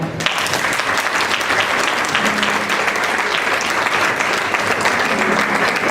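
Audience at the Fiestas del Pilar celebration of the Centro Aragonés de Terrassa breaking into loud, sustained applause, dense clapping filling the hall throughout.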